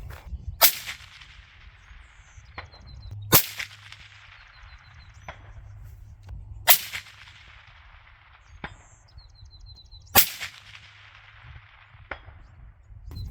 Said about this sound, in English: so I adjusted my hold and went ahead and shot a 3-shot group